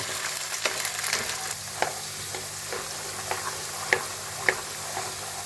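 Black chickpeas roasting in oil over a high gas flame, a steady close sizzle with irregular stirring knocks and a couple of sharp clinks of a spoon against the pan.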